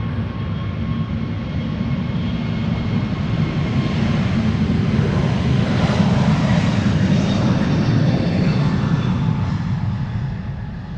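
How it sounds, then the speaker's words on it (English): A JetBlue Airbus A321neo jet departs Amsterdam Schiphol, its engines producing a broad, sustained roar that swells and peaks mid-way, heard from a distance outdoors without talk. "JetBlue flight 632 to Boston, Massachusetts, an A321neo in the wannabe ITA blue"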